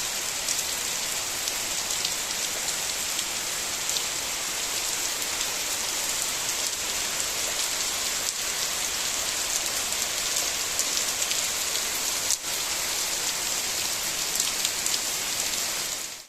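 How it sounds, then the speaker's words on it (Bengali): Heavy rain pours down steadily on surfaces outside a restroom at night, a dense, loud, unbroken hiss with spattering drops and no voices throughout. "আর রেস্টরুমে কিছুক্ষণের মধ্যেই শুরু হলো প্রচণ্ড বৃষ্টি।"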